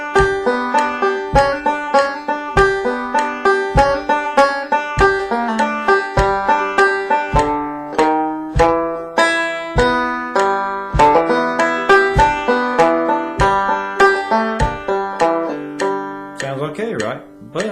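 Brisk plucked banjo rolls tumble along in steady eighth notes at 100 beats a minute in common time, bright and close, with no voices, ending in a short flourish.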